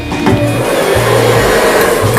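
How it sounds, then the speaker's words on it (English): A freestyle handheld blow dryer blowing a man's pompadour hair back, a steady loud close-up whoosh with a motor whine that rises and dips in short pulses as the airflow shifts. "We got our good old freestyle blow dryer."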